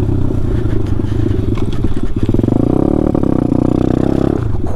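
A Taotao DB17 125 pit bike engine pulling in third gear, loud and close, with a rough, boggy buzzing drone and pulsing revs that rise and sag, plus some rattling clatter.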